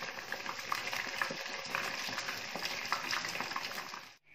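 Battered mushrooms frying in hot oil, a steady dense sizzle with crackling pops, close and moderately loud, cutting off abruptly at the end.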